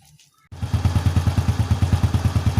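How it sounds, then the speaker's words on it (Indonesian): After a brief quiet moment, a motorcycle engine fires up and settles into a steady, rhythmic idle with evenly spaced pulses, close by and alone. "Kemudian sekarang kita coba menghidupkan motornya."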